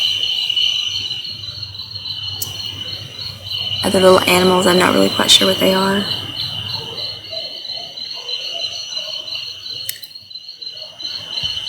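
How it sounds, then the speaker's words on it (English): Crickets chirp steadily outdoors at night in the countryside, a dense high insect drone running throughout, while someone talks briefly over it; a faint chirp of another small creature is mixed in. "I love the sound of the crickets chirping"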